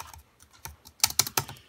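Random keys and numbers are tapped on a heavily modified computer keyboard. A few scattered clicks give way to a quick burst of louder, sharper keystrokes, all close up with no voices.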